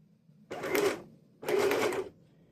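A sewing machine stitches through paper in two short, close bursts of rapid mechanical whirring with a brief pause between them.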